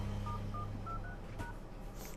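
Phone keypad DTMF dialing tones on a mobile phone, keyed in to check the prepaid credit balance: a handful of short, separate beeps in an uneven rhythm, close and clear over a steady low hum.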